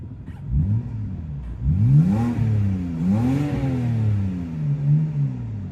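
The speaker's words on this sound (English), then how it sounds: "this car sounds pretty good too. Take a listen to a couple revs." A 2011 BMW 328i engine is revved a couple of times while parked, each rev rising and falling in pitch, loud and close with no talking.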